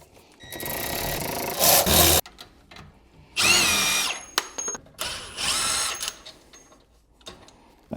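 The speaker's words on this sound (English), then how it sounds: "We do need to just loosen these bolts for the coilovers so that there's a little bit of a wiggle room." Power tool loosening coilover bolts on a Nissan 240sx subframe, three loud whirring bursts of a couple of seconds each separated by quieter gaps, close and alone without talk.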